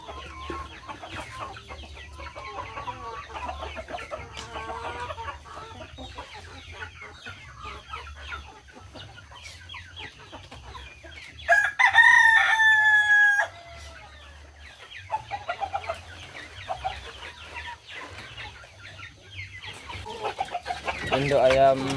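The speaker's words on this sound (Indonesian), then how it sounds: "Induk ayam Arab ori kita." Arab hens cluck in a backyard coop while a rooster crows loudly and close by partway through, with faint talk in the background.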